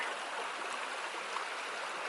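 Wide flowing stream about 10 to 12 feet across on the Pacific Crest Trail, a faint steady rushing hiss of running water with no pauses or voices.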